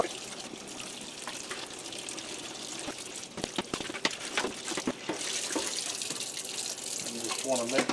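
A water stream rinses the condenser coil of a 1982 GE refrigerator, a steady close rushing and splashing that builds louder toward the end, with scattered drips and clatter and no talking.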